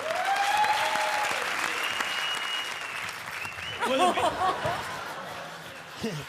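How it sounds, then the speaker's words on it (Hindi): An audience applauds warmly for a lifetime achievement award honoree at a ceremony, sustained clapping under a held tone, with scattered laughter and voices rising near the end. "आज के दावेदार देव साहब, जोरदार तालियां।"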